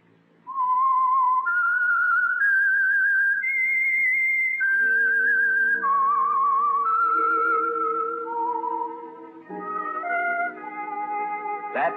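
A lone whistler carries the haunting melodic theme of the 1946 radio drama The Whistler, clear sustained notes gliding between pitches before a low orchestral backing joins and swells toward the end.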